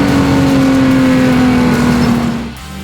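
A race car on a fast lap holds a loud, steady engine drone near the listener with a sustained high engine tone, fading slightly at the very end.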